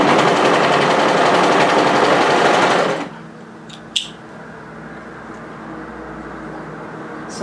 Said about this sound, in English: and then I'm going to overlock off.